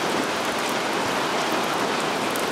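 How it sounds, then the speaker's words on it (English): Steady rain falls and patters on surfaces close by, a dense, even hiss with no breaks. "Rain is stopping, I hope."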